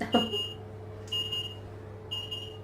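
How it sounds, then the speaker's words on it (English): A kitchen timer beeps in three short bursts about a second apart, high and steady, against a low hum in a home kitchen where an apple and bramble crumble is being made. "And there's the timer going, worst timing."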